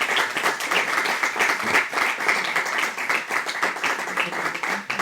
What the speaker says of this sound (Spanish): me aplaudo yo, no, les aplaudo a ustedes, les aplaudo a ustedes